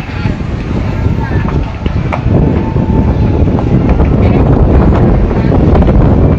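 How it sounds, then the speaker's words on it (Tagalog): Strong wind roaring loudly and continuously during a building fire in Taguig City, buffeting the microphone with dense low rumble, while voices speak faintly underneath. "lakas pa naman ng hangin"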